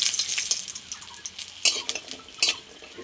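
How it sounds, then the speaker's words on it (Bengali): Lentil dumplings (bori) go into hot oil in a pan for a vegetarian curry, with short bursts of crackling sizzle and clattering utensil sounds, close and brief. "গরম হয়ে গেছে, বড়িগুলো ভেজে নেব।"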